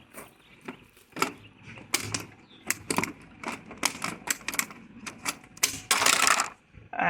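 Repeated sharp, crunchy snips at close range as a replacement piece of vinyl siding is cut by hand for a house siding repair, coming in an irregular rhythm with no talking.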